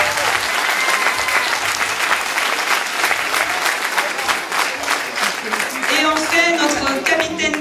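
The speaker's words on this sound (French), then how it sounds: "On l'applaudit super fort." A crowd at the end of a Christmas tale show applauds loudly and steadily, with voices rising over the clapping toward the end.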